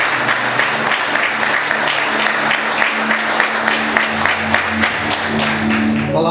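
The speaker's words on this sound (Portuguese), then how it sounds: "Vamos aplaudir o nome de Jesus." A church congregation applauds the name of Jesus during a Portuguese-language service, a steady, dense crowd clapping that holds evenly throughout, with no talk over it.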